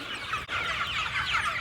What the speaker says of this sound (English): So here's an update on our meat birds now.